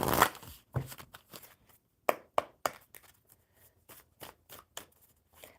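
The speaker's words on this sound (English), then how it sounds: "One more good shuffle." Tarot cards being shuffled by hand in a series of crisp riffling snaps and soft slaps, irregular bursts separated by short pauses, close and fairly quiet.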